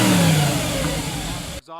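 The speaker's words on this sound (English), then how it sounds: "Rev up." A 2005 Audi S4 with the 4.2 V8 and stock exhaust revs loudly up close, its engine note falling back briefly before cutting off abruptly.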